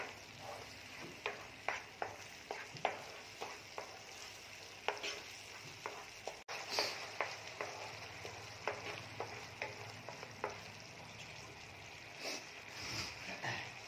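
Onions fry in a pan with a soft, steady sizzle, while a utensil stirs and taps against the pan in irregular clicks and scrapes, close and fairly quiet.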